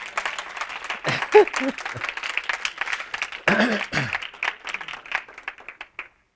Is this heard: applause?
yes